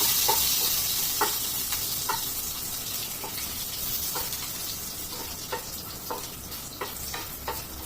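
Six or seven dry red chillies fry in a pan under a steady close hiss of oil, with soft stirring scrapes and taps recurring every second or so.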